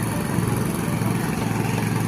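A tractor engine runs continuously and loudly at close range while tilling a field, a steady low drone with a faint rhythmic chug and no break.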